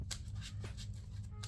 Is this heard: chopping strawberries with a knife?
no